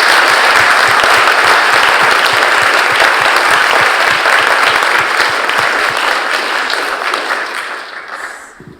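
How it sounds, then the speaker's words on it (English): Loud, sustained applause from a large awards-ceremony audience, a dense wash of clapping that holds steady for several seconds before gradually fading out at the end. "we can have a big round of applause"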